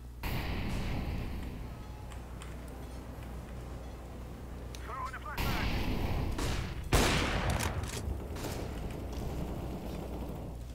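Gunfire in the video game CS:GO, sharp shots and bursts cutting through continuous game noise, with people talking throughout.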